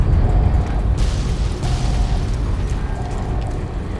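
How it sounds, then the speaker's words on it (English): Explosions and a lift mechanism in the Fallout New Vegas Lonesome Road video game: a steady loud rumbling boom bed with repeated mechanical whirring tones, three short rising bursts spaced evenly over the clip, no talk. "There's lots of explosions happening."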